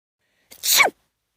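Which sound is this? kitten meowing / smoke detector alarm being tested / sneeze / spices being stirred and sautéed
sneeze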